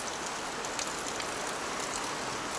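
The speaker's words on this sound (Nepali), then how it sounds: "हाम्रोतिर चाहिँ पानी पर्यो हे साथीहरू" Sudden rain falling steadily outdoors, a dense, even hiss of drops striking surfaces that holds unbroken throughout, near and moderately loud with no voices.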